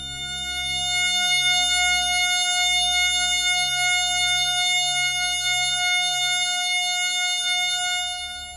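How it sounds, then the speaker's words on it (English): A sustained synthesized F sharp major chord of steady electronic tones, held loud and unchanging for several seconds with a faint low pulsing underneath. "3600 vibration cycles create the A sharp needed to complete yet another F sharp major chord"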